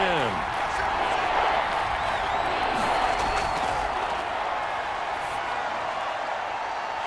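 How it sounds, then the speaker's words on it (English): Football stadium crowd in a video game Jets at Seahawks matchup, a dense, continuous roar of cheering and noise at steady loudness, with faint voices layered in. "Crowd getting in it a bit already."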